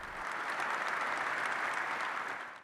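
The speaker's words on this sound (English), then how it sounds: "Kindly give His Excellency a warm round of applause." A large audience at the Africa Investment Forum in Rabat breaks into sustained applause, a dense, even round of clapping that fills the hall and fades out at the end.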